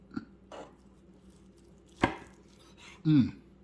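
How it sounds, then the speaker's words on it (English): A knife slices a meatball on a board, giving a few sparse, faint cuts and taps, with one sharp knock midway and a louder scrape and clatter at the end, close and quiet. "Cut a little piece off here. Just slice this up."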